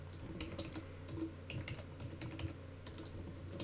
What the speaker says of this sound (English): Alright, type in your desired password